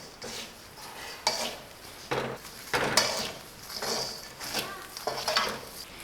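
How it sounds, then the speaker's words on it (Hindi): Papad being stirred in a hot pan without ghee, with irregular scraping and knocking of a utensil against the pan, moderately close, no speech. "अब हम इसमें पापड़ डाल लेंगे और जल्दी जल्दी से हमने इसको मिक्स करना है।"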